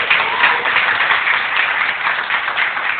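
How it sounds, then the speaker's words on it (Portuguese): Church congregation clapping hands hard at a children's preaching service in São Luís, a continuous, loud and even roar of palms that holds steady throughout, with a slightly muffled, band-limited tone. "bate o palma bem forte ali, querido"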